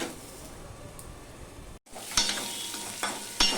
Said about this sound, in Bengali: আমি এখানে ঢাকা দিয়ে দিয়েই ভেজে নিচ্ছি